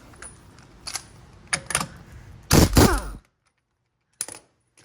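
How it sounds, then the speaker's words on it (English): An impact gun with a 32mm socket zips off an axle nut during an Integra Type R five-lug conversion. A few light clicks lead into one loud rattling burst, then silence and a final tap. "grab our 32mm on the impact gun, and then this nut should come off"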